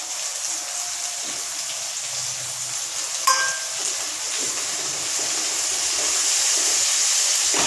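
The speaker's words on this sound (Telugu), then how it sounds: "ఇందులో కొంచెం సాల్ట్ వేస్తే బాగా ఫ్రై అవుతాయండి" Coriander and mint frying with salt in a kadai, a steady close sizzle with a single clink of a utensil midway and no talk.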